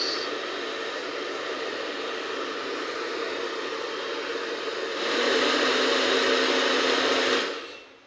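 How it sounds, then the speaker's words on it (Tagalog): A hair dryer blows with a steady, whooshing roar that grows louder for a couple of seconds, then shuts off and falls quiet. "Gumana po ang ating hair dryer"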